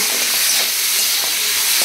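Prawns frying in a pan give a loud, dense, continuous sizzle and hiss, close and steady for a brief moment, with no voices.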